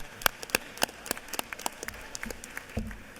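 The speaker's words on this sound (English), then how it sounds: "Please give him a round of applause." Sparse, scattered claps from a few people in a state House legislative chamber, each sharp hand smack standing apart, quiet and fairly distant, thickening slightly near the end.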